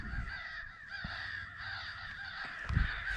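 Crows on a farm during a crow hunt give harsh, repeated caws that overlap at a moderate distance, with a muffled thump near the end.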